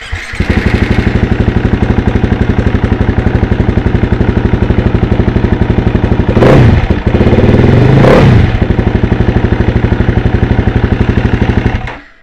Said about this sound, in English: And then when it's running, when the bike's running